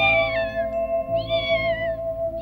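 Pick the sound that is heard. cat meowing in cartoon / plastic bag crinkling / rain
cat meowing in cartoon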